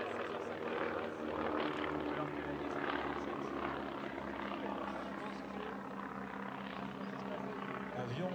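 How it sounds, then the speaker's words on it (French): An Avro Anson Mk.I with Armstrong engines flies past at the La Ferté-Alais airshow, giving a steady, even propeller drone that holds at a moderate level throughout. "Avion équipé de moteurs Armstrong."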